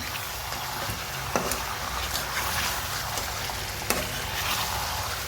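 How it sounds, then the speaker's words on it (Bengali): Spiced chicken frying and being stirred in a pan with eggs and potatoes, a steady broadband sizzle with occasional sharp scrapes of the spoon against the pan, close and continuous, no voices. "এখন ডিম আর আলু দিয়ে দেবো আর আলু ভালো করে কষাই দেবো"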